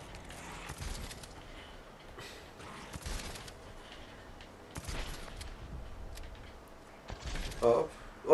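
Bursts of gunfire in the Dead Island 2 video game crack out in several separate volleys at irregular intervals, moderately loud, with a voice talking over them at times.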